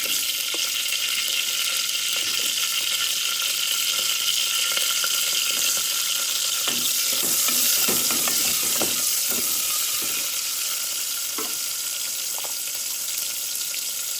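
Chopped onion hits a hot pan of prawns and sizzles steadily, a dense hiss with a few scraping stirs partway through, close and continuous with no talk.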